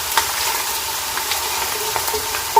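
Onions frying in a pan until golden for kaleji masala, giving a steady, soft sizzle with faint crackles and a couple of brief clinks, nearby and fairly quiet, with no talking.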